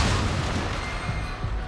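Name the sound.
explosion booming from a ship's depths, video game Reverse 1999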